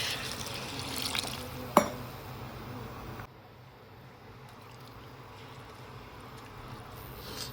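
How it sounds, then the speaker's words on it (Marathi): Water is poured into a pot of rice for pea pulao, a steady rushing splash for about three seconds with one sharp clink, followed by quiet low hiss. "त्याच्यामध्ये आता आपण पाणी टाकून घेऊया."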